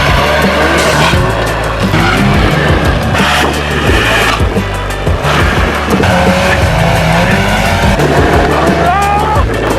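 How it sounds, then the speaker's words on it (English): An abandoned Arctic Cat ZR 800 snowmobile recovered from the woods, running after repair, its loud, continuous two-stroke engine roar rising and falling steadily close by as the sled revs. "that sled runs so good"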